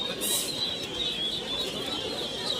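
At an open-air pigeon market in Zinjira, Bangladesh, a large Napta pigeon is among caged birds; soft cooing and faint chirps rise over a steady market hum, with a brief wing flutter near the start.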